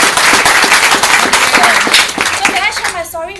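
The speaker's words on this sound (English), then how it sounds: "I think you guys deserve a round of applause for being here" Audience applause at a travel company testimonial talk, uneven clapping with distinct hand claps, loud and close, tapering as a voice begins speaking near the end.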